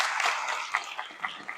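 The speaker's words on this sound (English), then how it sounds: "Let's give all the candidates a big round of applause for being here." An audience at a regional chamber of commerce candidate forum applauds the candidates, a brief steady wash of clapping from many hands with a few sharper claps standing out, moderately distant.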